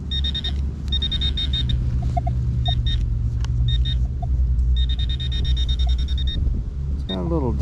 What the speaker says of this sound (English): See if the old pin pointer will pick it up.